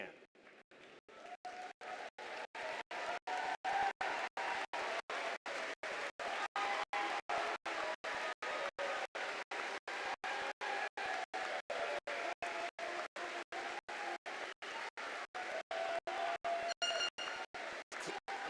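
A large commencement crowd applauds and cheers in a big echoing arena, a sustained roar of clapping that stays loud throughout.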